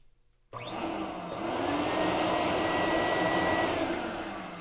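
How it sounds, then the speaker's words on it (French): An AspirTech model 500 vacuum cleaner, made in Quebec, switches on abruptly and runs close by with a steady, moderately loud whooshing motor drone that rises slightly in pitch as it settles. "je suis à quelques centimètres simplement de l'aspirateur et vous constatez que le bruit n'est pas un bruit infernal"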